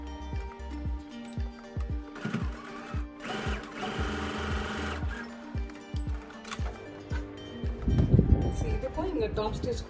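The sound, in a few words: sewing machine top-stitching a blouse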